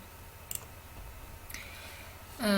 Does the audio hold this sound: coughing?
no